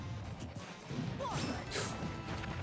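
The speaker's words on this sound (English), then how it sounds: "That's Bowser bomb, obviously." Bowser's Bowser Bomb in a Super Smash Bros match lands with a sudden crash and thwack, with swishing effects around it and a fairly quiet mix.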